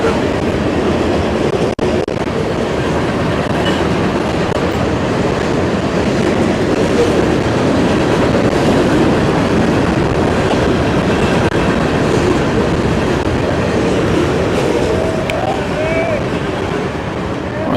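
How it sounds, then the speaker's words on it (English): A train passes close by a JV baseball game, a loud continuous rumble and clatter of rail cars filling the whole stretch, with a voice talking faintly under the noise. "I couldn't hear anything I was saying when that train went by."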